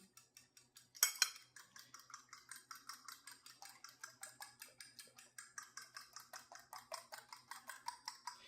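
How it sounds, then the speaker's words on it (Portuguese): An egg mixed with a little milk, salt and pepper being beaten in a dish, with a fork or whisk tapping the sides in a steady fast rhythm. The strokes are close and crisp and carry on alone throughout. "eu estou batendo o ovo"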